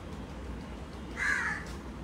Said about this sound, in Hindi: जब भी मैं कुछ अच्छा बनाना चाहती हूँ ये कौवा बोलने लगता है यार